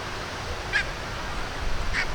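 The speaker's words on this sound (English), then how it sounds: "Are they geese? Yeah, they're geese." Two short honks from geese at Blackpool Zoo, a little distant, over a steady background hiss of outdoor noise.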